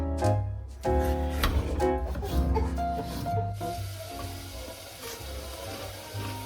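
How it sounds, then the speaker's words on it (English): Sliced onion frying in a teaspoon of oil gives a soft, low sizzle, overlaid in the first half by scraping and rubbing as the slices are moved around the pan, then settling to a quieter steady crackle. "I've sliced up the onion in half and I'm frying it with a teaspoon of oil"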